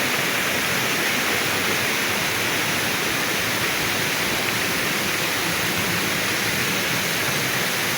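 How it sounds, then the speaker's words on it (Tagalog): Lanzones Falls along the Buruwisan Falls trail in Laguna pours in a steady, loud, broadband roar of falling water that fills the whole span without pause, and no voices are heard over it. "Lanzones Falls."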